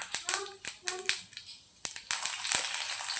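Urad dal and mustard seeds drop into hot oil for rava upma, starting with a run of sharp crackling pops, then a dense, loud sizzling spatter close by.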